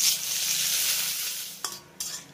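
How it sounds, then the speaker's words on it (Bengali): Whole cumin seeds, small cardamom, cloves, dried red chillies, cinnamon and bay leaves frying in oil over a low flame, a close, steady hiss with a couple of brief stirring clinks near the end. "লো ফ্লেমে আমি ফোড়নগুলোকে খুব সুন্দর করে ভেজে নিয়েছি।"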